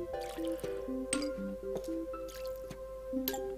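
Plants are watered in the video game Plants vs. Zombies, giving repeated short wet drips and squishes set against a steady layer of game music.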